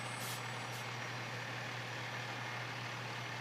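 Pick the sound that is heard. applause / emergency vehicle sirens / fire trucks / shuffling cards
fire trucks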